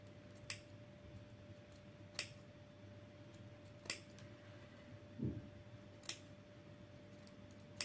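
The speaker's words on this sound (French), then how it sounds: "Là, on continue à cranter. Et vous crantez tout le long." Sewing scissors notching fabric along a man's tunic seam, five or six crisp isolated snips spaced a second or two apart over a faint steady hum, close and fairly quiet.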